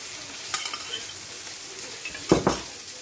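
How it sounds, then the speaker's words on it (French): Butter being stirred into makrout dough in a bowl, with a couple of brief scraping, mixing bursts and faint clinks against a quiet background. "Et on mélange."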